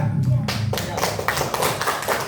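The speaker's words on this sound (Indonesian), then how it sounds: "Tepuk tangan" Pupils in a classroom break into a short round of clapping, a quick rapid patter of hands after a moment of talk, fairly close and loud.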